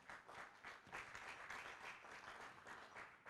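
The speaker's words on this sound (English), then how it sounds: "could we give our two teams a big round of applause?" A debate audience gives a sustained round of applause for two teams, with dense clapping from a crowd that holds steady throughout, recorded faintly at a distance.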